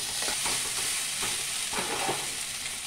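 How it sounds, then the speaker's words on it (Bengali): Spices and chopped coriander being stirred into a lote fish filling in a hot pan, soft sizzling under a few scraping stirs, close and steady with no talk. "এবার আমি খুব ভালো করে এগুলোকে মিশিয়ে নেব মাছের সাথে।"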